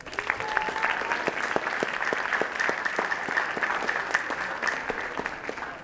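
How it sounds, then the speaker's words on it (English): An audience at a leadership summit applauds Leadership in Action students, a dense, steady wash of many hands clapping for about six seconds, with sharper individual claps standing out and no speech. "so give them a round of applause"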